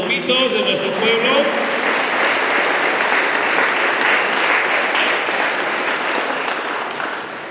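A church congregation applauding at the close of a fiesta Mass for the Virgin of Guadalupe in San Juan Mixtepec, Oaxaca, with sustained dense clapping from a crowd that slowly fades near the end, a few voices mixed in.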